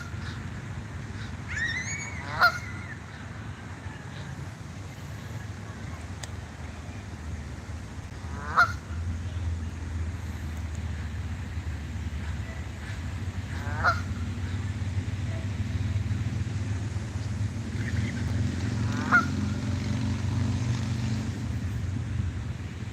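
Geese near a cave give four brief, widely spaced honks outdoors over a constant low rumble of wind or distant traffic, each call short and moderately near.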